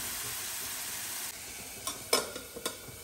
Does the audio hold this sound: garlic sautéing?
yes